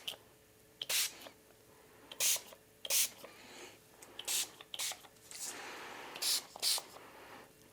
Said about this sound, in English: Just gonna spray a little bit around you